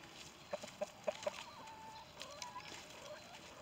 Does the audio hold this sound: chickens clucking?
yes